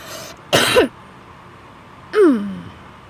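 Two short coughs or throat-clears, close and fairly loud, separated by a quiet pause of over a second.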